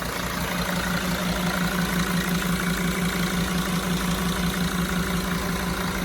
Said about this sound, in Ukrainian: Дивіться, так працює двигун.